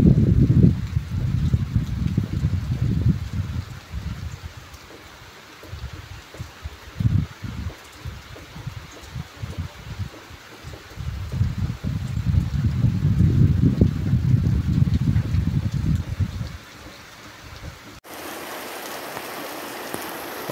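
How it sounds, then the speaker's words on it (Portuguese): Rain falls in Marisópolis, Paraíba, a steady hiss with gusty low rumbles that rise and fade, ending in a brief sharper burst of noise. "Chovendo aí nesse exato momento aqui em Marisópolis"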